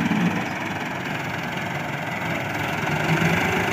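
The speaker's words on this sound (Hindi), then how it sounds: "ये ट्रैक्टर भी बड़ी है, ताकत वाली है" A large, powerful tractor with a front bucket for lifting soil idles steadily nearby, its low engine rumble and vibration continuous and unbroken, with no voices.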